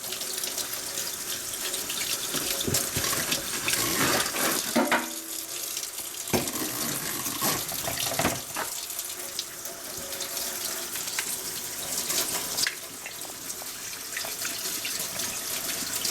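Tap water runs steadily and fairly loudly as restored Tootsietoys toy parts are rinsed under it, with brief splashes and clatter of the small parts against the sink.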